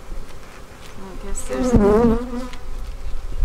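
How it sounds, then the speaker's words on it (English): Honey bees buzzing around a beehive during an inspection, a dense close hum with individual bees passing near, while someone talks over the swarm. "There's a lot of bees here."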